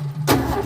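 Brief burst of a 1964 EH Holden ute engine cranking over with no ignition, a short low mechanical churn that swells abruptly and holds for under a second, close and fairly loud.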